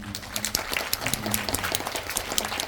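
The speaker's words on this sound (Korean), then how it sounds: "진명현 대표님한테도 박수 한번" Brief applause from a cinema audience at a post-screening talk at Megabox COEX, quick overlapping claps forming a continuous patter.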